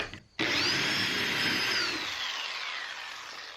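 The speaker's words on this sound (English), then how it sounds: "And the drill bit has a very specific height set to it." A power drill bores a pocket hole into a 2x4 with a height-set bit, starting abruptly with a loud, close, steady whine that slowly drops in pitch and fades as the bit cuts through the wood, with no talking.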